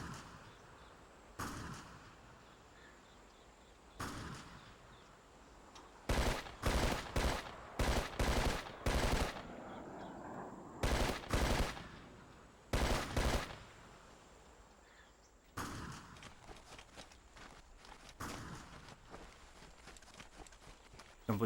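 Light machine gun fire in Ghost Recon 2: Summit Strike on a training course, short loud bursts spaced apart then a longer rattling stretch of rapid shots, with footsteps and quiet ambience between.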